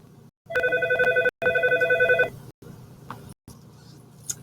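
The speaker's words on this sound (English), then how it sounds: "So sorry, you are really hearing my phone go off, aren't you?" A phone rings close by in two loud electronic bursts, then stops, leaving a quiet room with faint clicks and rustles.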